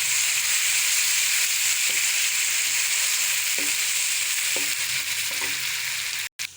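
Garlic, green chili and ginger paste sizzling loudly in a pan with browned onions, a steady bright frying hiss with a few soft stirring knocks and a brief sharp clatter near the end.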